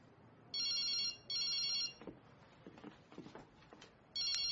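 Phone ringing, an electronic ringtone sounding in two short bursts, a pause filled by faint shuffling and knocks, then a third burst starting again, clear and fairly close.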